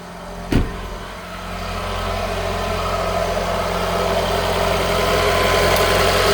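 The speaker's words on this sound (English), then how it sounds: "All right, so we're gonna let it run for a moment." A 2012 Mini Countryman S engine idles steadily after an alternator replacement, a close, continuous low hum and rumble with a brief knock near the start and no talking.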